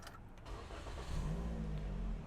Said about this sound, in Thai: ขออนุญาตสตาร์ทรถให้ดูแล้วกันนะครับ